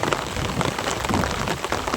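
Steady rain falls outdoors during a monsoon downpour, a dense, even patter close by that continues without any break and with no voices.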